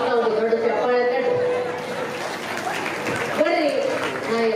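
Applause rises from the audience at a live comedy show, a steady broadband wash of clapping that runs the whole stretch, with a voice talking over it.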